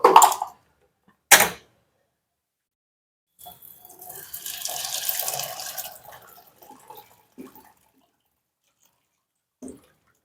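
Hot water is poured over white peas set to soak for a mango-ginger sundal, heard as a soft, close splashing pour of a few seconds, preceded by two sharp knocks and followed by quiet.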